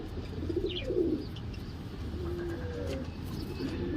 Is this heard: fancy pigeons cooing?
yes